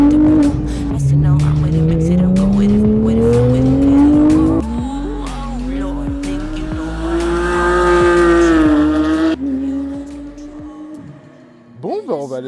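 A loud Corvette engine roars and revs continuously on a race track while racing a GT3, pitch climbing through gear changes with tire squeal, close up, then drops off near the end.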